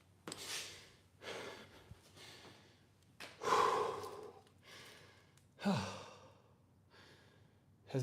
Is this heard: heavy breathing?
yes